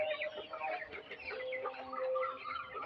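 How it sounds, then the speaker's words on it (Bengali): Twenty-day-old chicks on a poultry farm cheep and cluck together in a dense, continuous chorus that stays close and steady throughout. "আমার এই মুরগির বাচ্চার বয়স আজকে"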